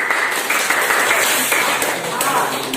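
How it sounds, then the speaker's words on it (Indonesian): A classroom audience claps together in a dense, sustained round of applause that lasts throughout, loud and close, with some voices mixed in. "Tepuk tangan untuk semuanya."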